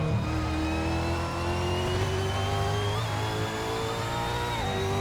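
Ford Falcon V8 Supercar accelerating at the Bathurst circuit in Assetto Corsa, a loud, steady engine drone that climbs in pitch through the gears, with two brief dips at gear changes.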